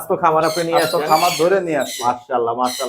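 Ringneck parrots and sun conures at a bird farm give loud, harsh squawks in quick repeated bursts, very close and almost continuous.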